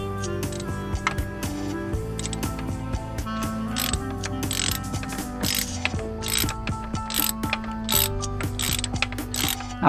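A ratchet socket wrench on an extension clicks through quick, dense runs of pawl ticks with brief pauses between strokes. It is close and clear, with no talk.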